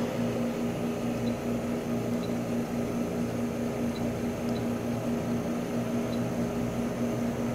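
A CEEBrewer 200CB spin coater runs with its chuck spinning under vacuum, giving a steady low mechanical hum with a constant tonal whine and faint broadband hiss throughout, moderately quiet and unbroken.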